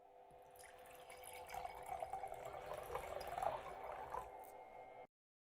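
Copper and zinc pieces being dipped into vinegar give soft liquid trickling and gentle bubbling that swells and then stops abruptly, quiet and close, with no talking.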